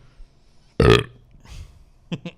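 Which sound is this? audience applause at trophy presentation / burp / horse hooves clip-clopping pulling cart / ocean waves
burp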